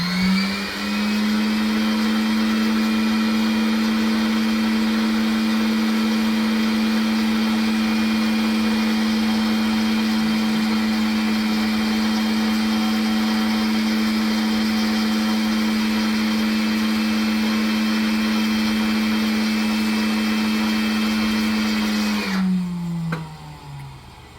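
Electric motor driving the closing mechanism on airplane N917Y, a loud, steady whine that runs evenly for over twenty seconds before winding down and cutting off, with no talking.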